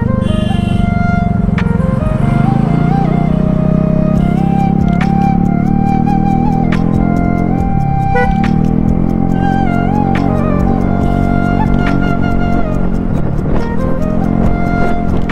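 A motorcycle fitted with an Akrapovic exhaust drones loudly and continuously with a deep, throaty exhaust note, rising and falling slightly as it rides, with faint talk underneath.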